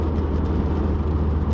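A Subaru WRX engine idling steadily nearby, a continuous low rumble with a faint mechanical whir and no voices.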